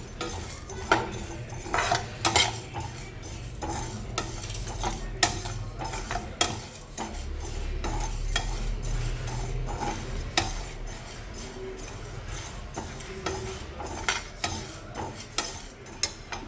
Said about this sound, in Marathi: आता हे चांगलं आपण भाजून घेऊया। फार चाळायचं पण नाही, हलकंसं भाजून घ्यायचं आहे कच्चापणा जाण्यासाठी।